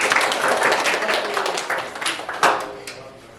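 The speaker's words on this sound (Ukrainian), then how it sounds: "аплодуйте собі" An audience at a Ukrainian game event claps together in a dense burst of applause that gradually thins out, with a few sharper claps near the end and no voices.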